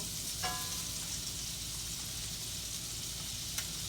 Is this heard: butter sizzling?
yes